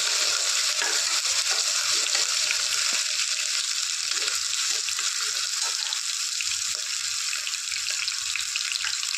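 Ginger garlic paste with spices frying in oil for vegetable biryani, an even bright sizzling hiss with faint scattered stirring taps underneath, close and constant, with no talk.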